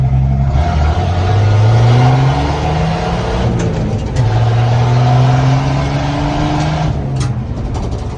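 A 1972 Chevrolet C10 pickup with a six-cylinder engine accelerates hard, its loud close engine note rising through a gear, dropping at the shift, then climbing again steadily with no talk over it.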